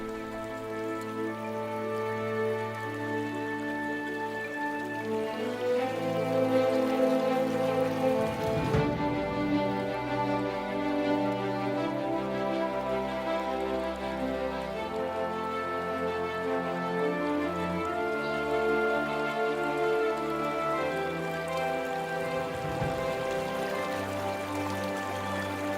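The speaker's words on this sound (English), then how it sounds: "Heavy rain clouds mark the onset of summer." Heavy rain pours steadily at the start of summer in the African wetlands, a continuous dense patter under swelling orchestral music for the whole stretch.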